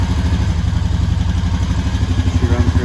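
A 2019 Honda Rancher ATV engine runs at a steady, lumpy idle, loud and close, with a rhythmic chugging pulse and no voices over it.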